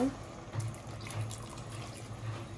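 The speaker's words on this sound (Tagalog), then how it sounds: "Lagyan natin ng konting water." A small amount of water is poured into a cooking pot while making a budget spaghetti sauce, a faint, steady trickling pour with no talking.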